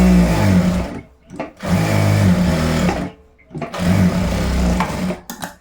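A sewing machine stitching the pocket of boys' school uniform shorts, running in three loud, close bursts of rapid whirring separated by brief pauses, with no talking.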